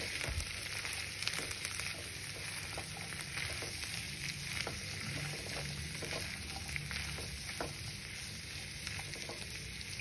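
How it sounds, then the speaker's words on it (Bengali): Corn with cheese and mayonnaise sizzles in a pan while it is stirred, giving a steady close frying hiss with scattered light scraping clicks throughout and no talking. "চিজ আর মেয়োনিজ দিয়ে এবার আমি কর্নগুলোকে নাড়তে থাকবো।"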